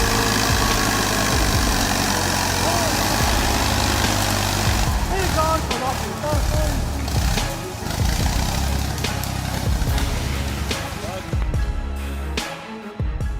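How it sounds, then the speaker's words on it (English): A Universal 445 tractor with a 45 horsepower engine runs steadily, its low mechanical drone continuous throughout while a voice talks over it. "The Universal 445 tractor, boasting a solid 45 horsepower engine"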